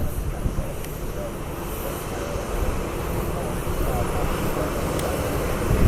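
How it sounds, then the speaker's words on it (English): Southwest and American airliners taxiing toward the runway at an airport make a steady, rumbling jet engine drone in the distance, joined by a faint whine and outdoor wind noise. "So we got two Southwest lined up over here and American heading out to the runway."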